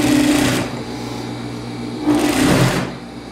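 A sewing machine stitches the face section of a double-faced coat in two loud bursts, the first about half a second long and the second about a second, with a low motor hum in between.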